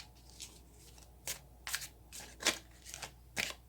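Tarot cards shuffled by hand at close range, a quiet room with several short riffling bursts coming in irregular bursts, and no voice over them.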